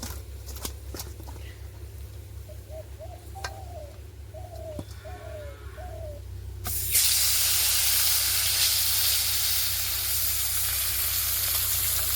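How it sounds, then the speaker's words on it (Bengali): Birds coo and call softly outdoors, then a loud, sudden hiss of frying erupts and keeps sizzling steadily as fish hits hot oil in a wok. "মা কিন্তু মাছ ভাজার জন্য কড়াইতে দিয়ে দিয়েছে"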